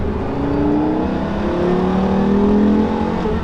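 A Porsche Carrera GT engine accelerates hard in third gear, its pitch climbing steadily as the revs rise, loud and close throughout.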